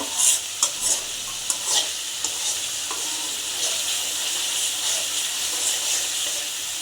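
Spices for potato curry (aloo dum) sizzle in hot oil while being stirred, with scraping strokes and clinks at the start over a continuous frying hiss.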